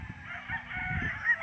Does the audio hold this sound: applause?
no